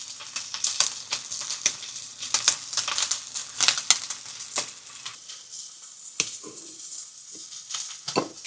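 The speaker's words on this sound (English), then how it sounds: "I'm going to go cook a burger." A burger fries in a pan, giving a steady close sizzle and crackle with scattered sharper pops and scraping stirs, and no talking over it.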